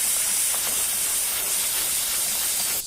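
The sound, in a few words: spraying brake cleaner onto car parts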